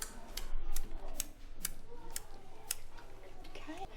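Children's voices imitate a ticking clock, making a run of short, crisp clicking sounds at a roughly even pace, fairly quiet, with a faint murmur of other voices in the room behind them.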